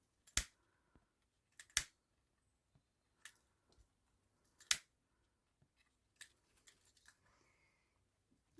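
Scissors snip excess 3-inch ribbon off a large boutique bow, a handful of crisp, close cuts scattered across a quiet stretch with soft handling noises between them.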